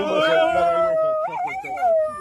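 A woman makes loud, sustained howling and barking noises imitating a dog, her voice continuous with rising and falling pitch for about two seconds.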